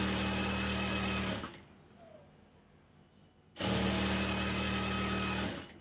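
A sewing machine stitches the lower edge of a hijab in two close bursts of rapid buzzing, separated by a couple of seconds of near silence.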